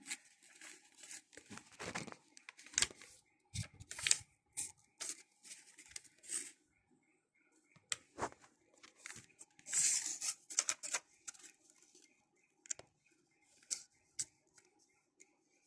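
Sheets of paper creased and folded by hand for a Squid Game craft, crisp crinkles and rubbing swishes in irregular bursts with short pauses, close up and alone.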